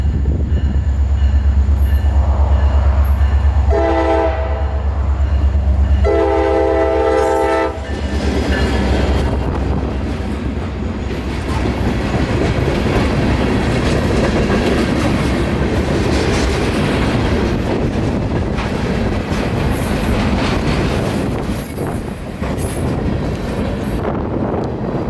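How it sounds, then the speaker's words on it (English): A long train of railroad cars rolls steadily past on the rails, loud and close. Horn blasts sound near the start, followed by continuous rumbling and clattering of wheels over the track. "Then 750 rejoined the rest of his train and he was ready to head back north toward Tampa"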